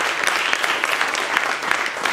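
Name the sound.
audience applause at a public event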